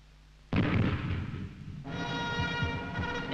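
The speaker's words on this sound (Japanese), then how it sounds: "やがて大砲の響きを合図に星条旗が上がります。" A cannon salute booms once with a sharp, heavy blast that rolls and rumbles on, followed by a sustained echoing roar, at a flag-raising ceremony at Fort Benning.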